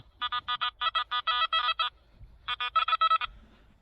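A series of short electronic beeps in quick bursts, a pause, then another run of beeps from a metal detector on a beach, with no talking.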